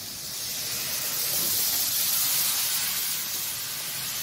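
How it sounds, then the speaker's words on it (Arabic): Vinegar poured into a hot pan for a pasta dish, giving a steady, loud hiss of sizzling and steam that runs continuously, close up and without talk. "حطي بقى شويه خل، حطي"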